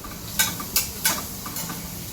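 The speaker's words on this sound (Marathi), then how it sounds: "त्याला हलवून घेते" Masala being stirred in a little hot oil in a pan on a home stove, a few soft scraping strokes spaced roughly a third of a second apart over a faint steady sizzle, close and fairly quiet.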